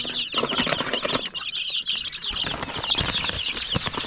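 Chicks and chickens being fed grain make busy clucking and peeping, with a flurry of wing flaps and scratching throughout, close and continuous.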